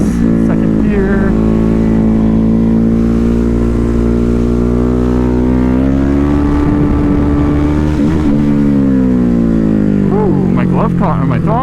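Riding a Ducati Hypermotard 950 motorcycle, the engine drones loudly and steadily, drops in pitch under braking into second gear, then rises again, with a rider speaking throughout.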